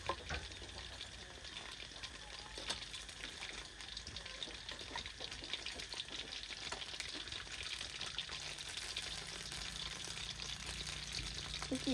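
Chicken feet coated in batter deep-frying in a pot of hot oil, a steady dense crackling sizzle holding evenly throughout at close range, with no talk.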